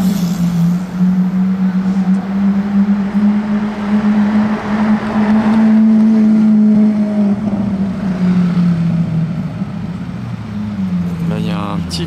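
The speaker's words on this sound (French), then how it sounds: "j'entends une Aventador arriver au loin" A Lamborghini Aventador approaching from far off, its engine a steady low drone that swells slightly toward the middle before a brief rising rev near the end, heard from inside a car with wind and road noise throughout.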